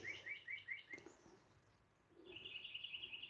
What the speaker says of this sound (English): Those birds are happy today. Happy birds.